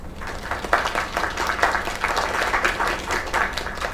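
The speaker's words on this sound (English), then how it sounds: "Another round of applause." Audience applause after a singer's performance, dense steady clapping close by, holding at an even level throughout.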